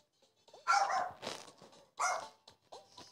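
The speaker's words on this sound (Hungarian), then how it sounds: "Közben a kutyám a kukásra nagyon ugat." Two dogs, a dachshund and a Yorkshire terrier, bark at a garbage collector at home, giving a few sharp, fairly close barks in quick bursts with short gaps.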